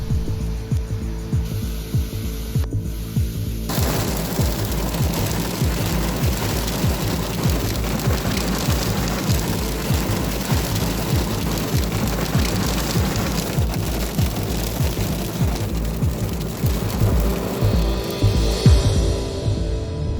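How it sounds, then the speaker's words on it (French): Heavy, dense patter of hail pounding surfaces in a town during a violent December thunderstorm in Amiens, a steady loud roar that starts abruptly after a few seconds and continues throughout. "c'est la grêle qui s'abat sur la ville"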